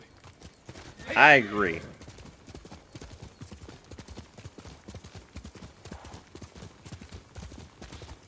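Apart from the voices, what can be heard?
horse hooves from video game Ghost of Tsushima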